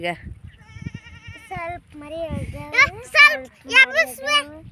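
Sheep being grazed through a village bleat repeatedly, several wavering calls close by that rise in number and loudness toward the end, alongside faint low background sounds.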